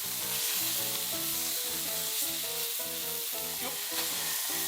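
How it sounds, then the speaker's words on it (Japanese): Green onion-wrapped beef sizzles as it grills, a loud, steady crackling fry heard up close and alone. "ネギ包み焼きます。"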